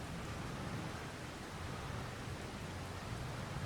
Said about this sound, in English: It did start raining on us, not a big issue.